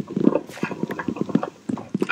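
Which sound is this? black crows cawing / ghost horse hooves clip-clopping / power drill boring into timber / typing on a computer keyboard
ghost horse hooves clip-clopping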